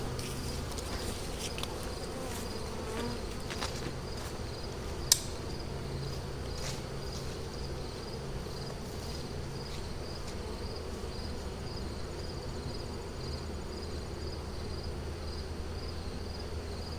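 Honey bees buzzing steadily around production beehives outdoors, a continuous mid-level hum with a few faint clicks and no talking.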